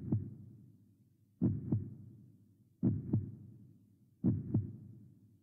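Heartbeat heard alone, a steady slow rhythm of paired low thuds, each lub-dub pair recurring about every second and a half, close and clear with near silence between beats.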